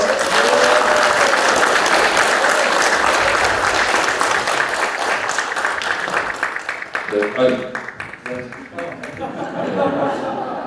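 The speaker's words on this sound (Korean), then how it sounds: "여러분의 큰 박수로 시작하겠습니다" Sustained audience applause fills a forum hall at the opening of a presidential candidates' invited debate, loud and steady before thinning into scattered claps near the end, with some voices mixed in.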